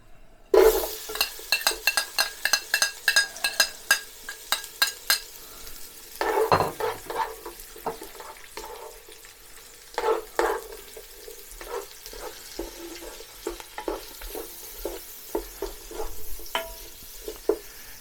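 Onions fry in melted coconut oil in a pan for a coconut shrimp and crab curry, crackling loudly at first. A long run of sharp utensil clatters and stirring scrapes follows, with a sizzle underneath.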